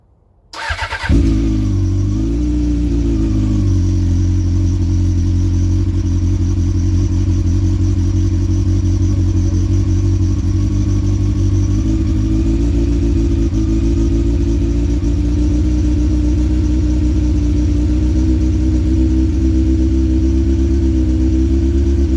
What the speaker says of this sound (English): I'm gonna start the bike